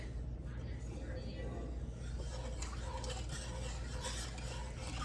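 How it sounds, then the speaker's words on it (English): Crab soup with heavy cream being stirred in a pot gives a steady scraping and swishing over a low cooking hiss, continuous and fairly close throughout, with a voice talking over it. "So I'm gonna keep stirring this."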